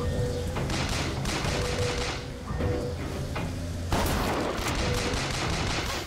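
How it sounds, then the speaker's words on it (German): Sustained gunfire from enemies in BioShock Infinite, dense rapid shots and thuds continuing throughout with a louder burst near the end, no talking. "Ja, die schießen nämlich irgendwie vorrangig da drauf"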